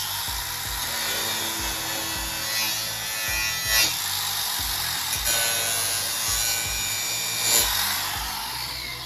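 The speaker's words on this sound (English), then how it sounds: "it grinds into your material. It'll take the surface off" A DeWalt angle grinder grinds into a workpiece, stripping its surface with a steady, loud high-pitched whine and rasping scrape, with a few brief louder bites as the disc presses in; no one speaks.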